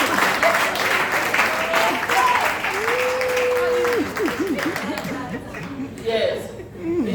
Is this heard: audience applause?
yes